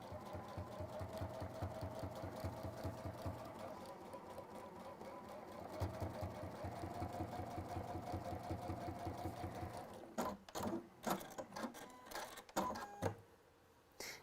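A sewing machine top stitching down the side of fabric, a close steady rapid mechanical whir for about ten seconds, then short stop-and-start bursts and clicks, with no voice.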